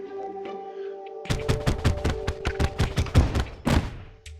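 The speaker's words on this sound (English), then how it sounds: "So it seems to shoot down cannonballs similar to the Meteorite Clicker, and inflicts fire." Captain's Clicker Bombard ability in the Terraria Clicker Class mod, a rapid volley of about a dozen booming cannonball impacts in quick succession, loud and close after a brief quiet game tone.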